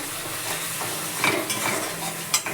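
Turmeric, chilli powder, salt and cumin powder are stirred and fried in a pan for a paneer dish, giving a steady close sizzle with repeated scraping stirs and a couple of sharper utensil clicks.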